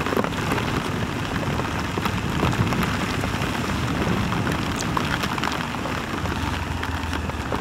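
Heavy rain pours down around a Honda Hornet 2.0 motorcycle stopped with its hazard lights on, a dense, steady roar that stays constant and loud throughout, with no voices.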